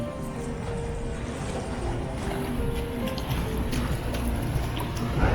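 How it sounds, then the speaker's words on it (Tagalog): A constant, rough rumble of surf and wind along the seaside boulevard of Dumaguete in the early morning, with heavy waves washing in steadily and growing slightly louder toward the end. "Medyo malakas yung alon dito."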